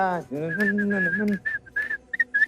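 On a television game show stage, a person whistles a series of short, wavering notes in a broken rhythm. A voice sings or hums at the start, and the whistling that follows is moderately loud and close.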